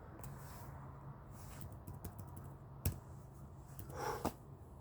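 Scattered keyboard clicks and taps, irregular and fairly quiet, over a low background hum, with one sharper click standing out.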